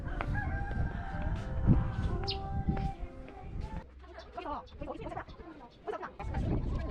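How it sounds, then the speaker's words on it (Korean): A rooster crows nearby in a drawn-out call, followed by chickens and outdoor chatter as people talk in the background. "꼬꼬가 오네"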